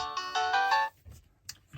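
An imo dash 4G phone plays its ringtone at the highest calling volume, a bright melodic run of electronic notes that cuts off abruptly, followed by quiet handling noise.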